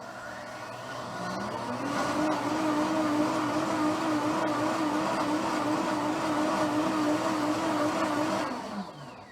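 A kitchen blender revs up and runs at a steady high whine for several seconds, loud and close, then spins down and stops; no one speaks.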